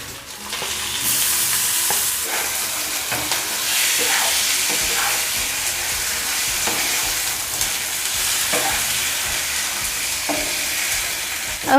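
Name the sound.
marinated chicken frying with golden onions in a pan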